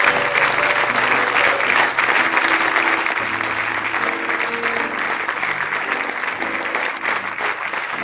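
A church congregation applauds after a prayer, steady dense clapping filling the room, with sustained music tones underneath and no speech.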